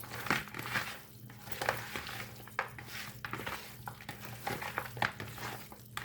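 Country chicken marinated with salt and chili powder is mixed by hand in a bowl, a steady wet squelching and rubbing with soft clinks, close and continuous throughout.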